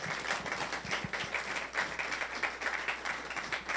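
A studio audience at a televised forum debate applauds a guest, a former mayor, with steady, moderately loud clapping from many hands through the whole moment.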